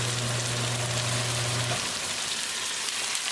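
Tomatoes cooking with tadka in a covered pan give a steady, soft sizzle and crackle, close and even throughout, with a low hum that stops partway and no talking.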